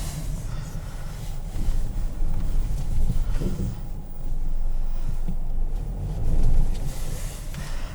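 A 2021 Ford Bronco Sport Outer Banks shifted into drive and pulling away, a steady low engine and road rumble with wind noise that swells briefly as it moves off, heard from inside the cabin.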